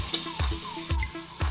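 Whole spices and ground masala for moong dal sizzling and being stirred in a hot pan, with steady frying hiss and repeated scraping strokes, close and moderately loud.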